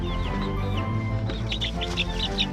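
Backyard chickens in a new coop give soft, scattered chirps and calls over a steady low hum, fairly close and moderate in level.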